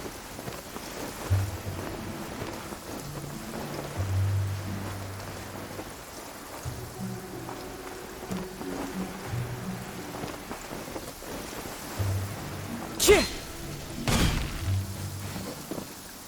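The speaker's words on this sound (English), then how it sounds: "Taking a stroll in the middle of a downpour certainly rouses the spirit." Steady rain pours during a downpour in the Genshin Impact video game, with low tonal music underneath and two sharp, loud thunder cracks close together near the end.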